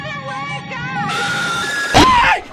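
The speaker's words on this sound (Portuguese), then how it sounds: "com o xenomorfo dando um grito e agarrando ele" A xenomorph lets out a loud, shrieking scream during a horror film jumpscare, rising and wavering with a harsh burst near the end, layered with yelling voices.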